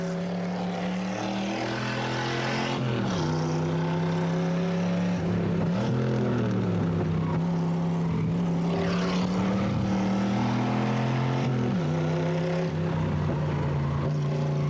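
Onboard engine roar from an IndyCar at the 1992 Molson Indy street race in Toronto, a steady loud drone whose pitch climbs and drops sharply with gear changes and braking, no voices.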